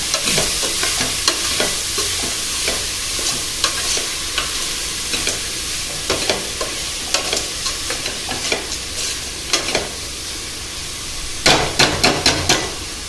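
Onions frying with salt in a pan are stirred, giving a steady close sizzle broken by repeated scraping and clinking strokes that grow denser near the end.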